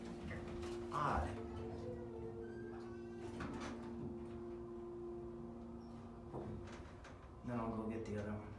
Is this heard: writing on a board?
no